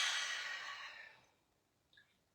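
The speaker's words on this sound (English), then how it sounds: "And exhale out the mouth." A long breath exhaled out through the mouth during a guided breathing session, a soft airy sigh that fades over about a second and a half, followed by a brief faint rustle.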